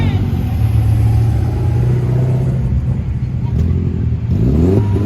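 Race car accelerating down the track at a Goodguys Colorado Western Nationals car show, a loud, close engine roar that holds steady and climbs in pitch near the end, with a commentator talking over it.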